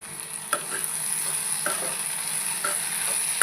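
Vegetable curry with capsicum cooks uncovered in a pan, with a constant bright sizzle and a few sharp scraping strokes of a spoon stirring through it.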